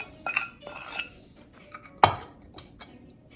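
A spoon clinks and scrapes against a dish while crushed spices are mixed into roasted eggplant and cauliflower, with several soft stirring strokes and one sharp metallic knock.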